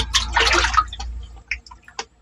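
Water splashes and trickles close by in a dug hole, then a few separate drips fall at irregular intervals as the sound thins out.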